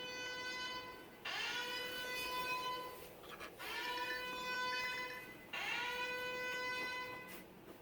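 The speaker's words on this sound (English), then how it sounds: "His alarm's about to go off." An alarm clock goes off in a bedroom where a man is sleeping, giving three repeated electronic buzzing tones of a second or two each, separated by short gaps, moderately loud and with no talk.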